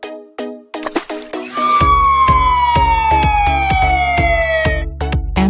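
A toy fire truck plays an electronic siren, a loud steady wail that slides slowly downward over a repeating beeping pattern, preceded by a few short tones, close and alone.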